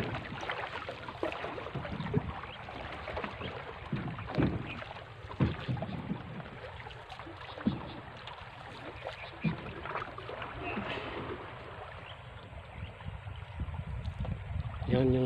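Choppy water slaps steadily against a small boat hull in rough, strong waves, over a constant roar of wind and engine noise, with irregular splashes throughout.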